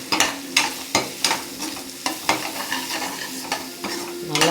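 Two eggs sizzle in a hot pan while a utensil stirs and scrapes them in quick, regular strokes, each sharp scrape rising over the steady close frying hiss.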